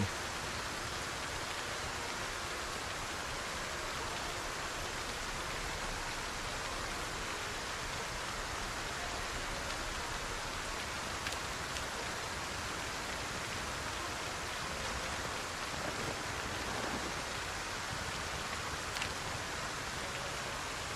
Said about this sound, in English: It's just loud as fuck, the fucking rain.